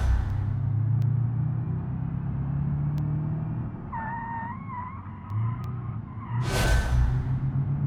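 Tires squeal briefly under hard braking in the video game BeamNG during a racing career session, a short wavering screech over steady car engine and road rumble, with a louder burst of noise near the end.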